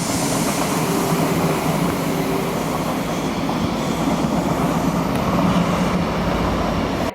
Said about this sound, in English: there's a fairly large train that goes alongside this state park that I didn't think we would be able to hear from our campsite.